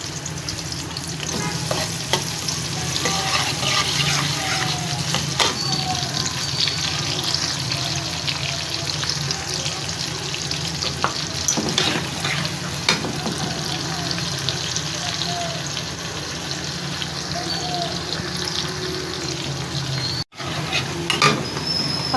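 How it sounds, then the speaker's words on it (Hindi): Chopped onions fry in hot oil in a kadhai with a steady, dense sizzle and occasional stirring scrapes, close and continuous, with no talking. "इसमें प्याज कटा हुआ डाल देते हैं।"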